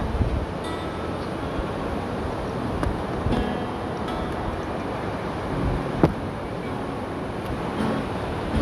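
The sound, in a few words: sea waves on the shore at Pranburi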